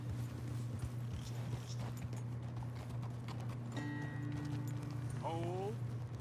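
Horse hooves clop along a road in Red Dead Redemption 2, a steady walking rhythm under a low background hum, with brief whistled or tonal game sounds near the end.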